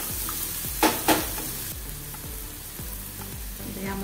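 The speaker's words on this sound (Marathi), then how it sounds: "तर आपल्याला यामध्ये एक कांदा मी घेतलाय बारीक चिरून, तो घालूया। व्यवस्थित परतून घेऊया।" Finely chopped onion sizzles steadily while being stirred in a pan for baingan bharta, with a couple of sharper scraping knocks early on and a bright, continuous frying hiss throughout, no voices.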